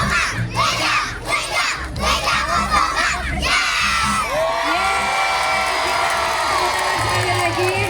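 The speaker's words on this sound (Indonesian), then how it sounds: "Kita berikan tepuk tangan yang meriah, sungguh luar biasa anak-anak hebat TK Wijakusuma." A large outdoor crowd at a kindergarten children's parade cheers and shouts loudly, with children yelling and whooping, while a voice over a loudspeaker talks through it.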